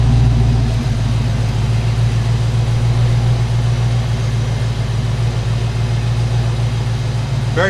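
1988 Mustang LX 5.0 V8 idling through stock turbo mufflers, heard from behind the car as a steady, deep, mellow exhaust burble with a constant low drone, no revving and no talking.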